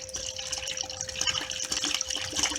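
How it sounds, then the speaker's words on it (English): Old coolant and water gurgle and splash out of a drain point as an Alde G13 heating system is flushed through, a steady close liquid wash with small bubbling bursts and no talk. "it's pumping through now and it's gurgling out the other end"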